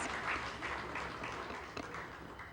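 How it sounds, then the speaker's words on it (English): Students clap together at a secondary school's 20th anniversary celebration, a steady, moderately quiet wash of applause with a few sharper individual claps. "We are going to give ourselves a round of applause, students."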